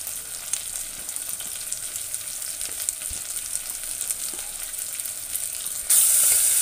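Thinly sliced onions sauté in a pan, giving a steady, close frying sizzle with light crackle throughout. The sizzle grows louder and brighter near the end.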